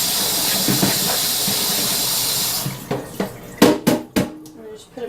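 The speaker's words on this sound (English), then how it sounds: "make sure you rinse the blueberries off" Tap water hisses steadily while blueberries are rinsed in a kitchen sink, then cuts off, followed by a few sharp knocks and clatters of a container or dish nearby.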